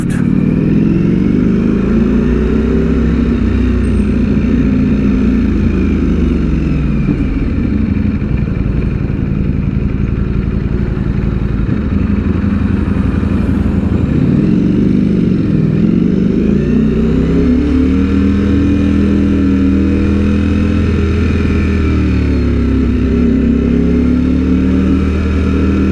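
A Ducati Streetfighter V4S is ridden through heavy traffic, its engine droning loud and close with repeated rises and falls as the rider rolls on and off the throttle, under constant road and wind noise.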